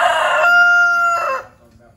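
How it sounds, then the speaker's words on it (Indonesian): A rooster crows loudly and close by in a village on a late afternoon, one long, strident call that breaks off abruptly and is followed by quiet. "Maaf guys kalau ada suara ayam nih"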